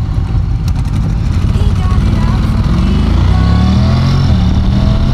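A Honda NC750X automatic motorcycle in sport mode pulls away hard from a traffic light, its engine droning loud and close with rising pitch as revs climb, a rider talking over the steady roar.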